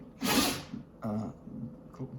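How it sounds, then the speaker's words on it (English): A dog sneezes indoors, with one sharp, breathy burst followed by a couple of smaller snorting sneezes, fairly close and heard alone. "That's one of my dogs, sneezing in the background."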